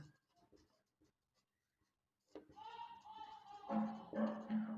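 Marker or chalk scratches across a board during a class-10 physics lesson on the reflection of light: faint scattered strokes at first, then a denser, louder run of writing with a voice alongside.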